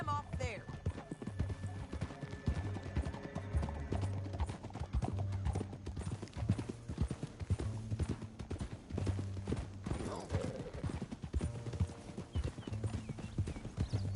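Steady galloping hoofbeats in Red Dead Redemption 2 pound on throughout, a continuous rapid clip-clop with a faint whinny and some background voices mixed in.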